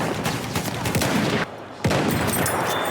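Gunfire in the Battlefield 1 video game, with rapid bursts of shots crackling over a dense battle din, a brief lull partway through, then the firing resumes loud and close.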